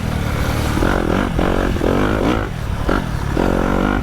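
Yamaha YZ250F four-stroke 250 dirt bike engine on a trail, a loud close buzzing engine that revs up and down in several surging pulls with rough idle between.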